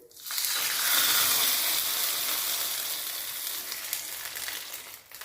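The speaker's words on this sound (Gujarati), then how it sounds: "હવે આપણે જે ખીરું બનાવ્યું છે તેની અંદર આપણે રાઈનો વઘાર એડ કરીશું" A sudden loud sizzle bursts out as a hot mustard-seed oil tempering hits a wet batter, then fades slowly into a softer crackling hiss.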